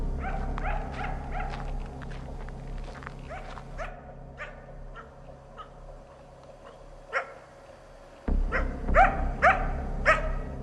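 A coyote barks repeatedly outdoors, sharp yips and barks in irregular bursts at moderate distance over a low background rumble, growing louder and more frantic toward the end.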